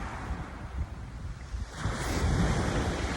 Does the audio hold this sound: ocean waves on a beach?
yes